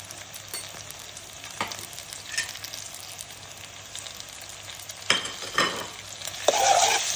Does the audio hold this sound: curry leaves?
yes